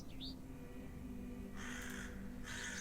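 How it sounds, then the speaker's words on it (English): A crow-like bird caws in the video game The Excavation of Hob's Barrow, two harsh repeated calls standing out over a quiet ambient background hum. "There's a bird there."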